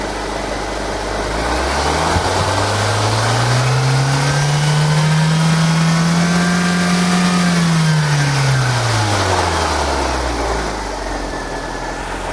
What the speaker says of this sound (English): increase engine speed by opening the throttle